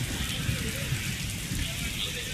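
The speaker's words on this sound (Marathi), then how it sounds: "कोल्हापूरमध्ये मुसळधार पाऊस झालेला आहे" Heavy unseasonal downpour in Kolhapur, a steady broadband wash of rain falling on surfaces, continuous and even in level throughout with no voices.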